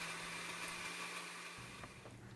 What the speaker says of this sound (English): push the button and blend.